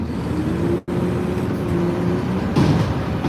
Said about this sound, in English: I still like to hear the sound of an engine when I'm driving my car.